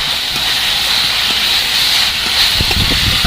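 Diced potatoes dropped into hot oil with masala for an egg curry sizzle with a loud, steady broadband hiss that holds for the whole stretch, with faint clatter underneath and no talking.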